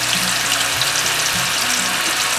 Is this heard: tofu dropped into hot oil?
yes